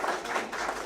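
An audience applauds at a library event featuring a quilter and author, a dense burst of clapping that is fairly loud and close but lasts under a second.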